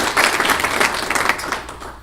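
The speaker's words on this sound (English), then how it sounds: "Let's give her a round of applause" Audience applause at a Washington County Chamber of Commerce breakfast meeting, a brief burst of many hands clapping in a room that swells and then tapers off.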